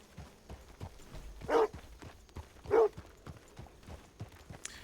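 Horses clip-clop on a trail in the Red Dead Redemption 2 video game, with a run of soft, fairly distant hoof taps and two louder swells of noise among them.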